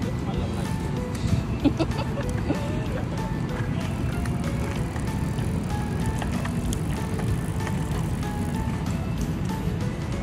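Children riding bicycles around a park lake, with steady wheel and rolling noise close by and an adult talking over it throughout.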